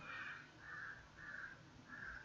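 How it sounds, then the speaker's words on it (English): A crow cawing four times in an even rhythm, harsh calls spaced about half a second apart, moderately distant and alone over faint background hiss. "Sorry about that bird shouting."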